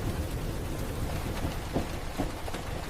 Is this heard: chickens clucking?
no